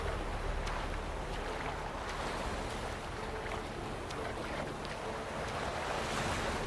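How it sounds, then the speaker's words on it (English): Steady wash of water waves and surf in The Witcher 3, a constant broadband rush with some wind, moderately loud and unbroken, with no voices. "I really like the water in this game."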